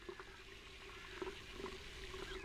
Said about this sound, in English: That's like water running.